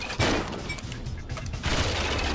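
Grenade blasts and scattered gunfire in the video game 007: Agent Under Fire, with a loud burst near the start and rumbling, crackling combat noise continuing throughout.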